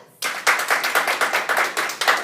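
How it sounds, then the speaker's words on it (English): Rhythmic clapping breaks out suddenly after a brief quiet moment as a group welcomes a nurse guest, steady and fairly loud beats repeating evenly and close by. "Let's give her a big round of applause."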